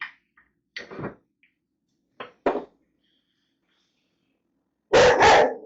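A puppy gives several short, sharp barks spaced apart with silence between, ending in a louder double bark.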